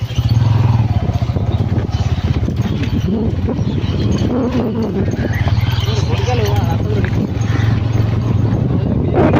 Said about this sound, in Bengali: এখানে বিশাল হাওয়া চলছে চারিদিকে যেহেতু ভেরি ফেরি রয়েছে তাই হাওয়াও চলছে বিশাল একদম বাইকে বসে তো ফিল চলে আসছে